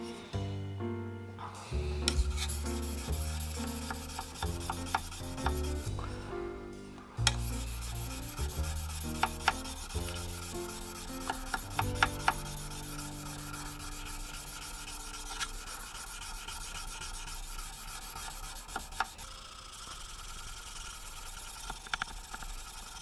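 A Gesswein 1200-grit diemaker stone polishing metal, a continuous close scraping rub with irregular strokes, rhythmic at first and then settling into a steady, softer grinding hiss.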